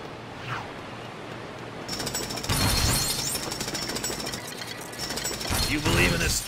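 A pneumatic drill in LEGO City Undercover rattles in a continuous loud mechanical burst at a construction site, with game sound effects and clanks layered on top.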